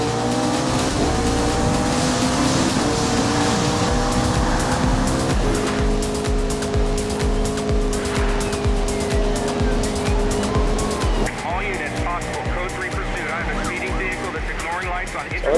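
Video game car from Need for Speed Rivals drives hard, its engine droning loudly and shifting pitch through gear changes, with tire squeal mixed in and a person talking over the top throughout.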